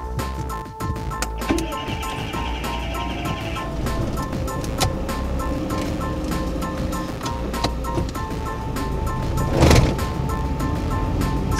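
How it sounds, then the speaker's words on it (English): A Perodua Kancil car driving, its small engine humming with a steady drone and tonal whine, plus rattles and a brief louder burst near the end, heard from inside the cabin. "I'll be taking this car out to the main road."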